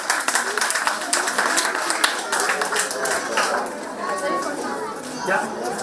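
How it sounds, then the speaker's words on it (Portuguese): Applause breaks out for a team at an anniversary gathering of a neighbourhood centre, scattered hand claps mixed with crowd chatter and voices throughout. "Aplauso para nós time de o dia 5"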